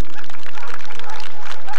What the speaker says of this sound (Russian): Ваши аплодисменты этим мужественным людям.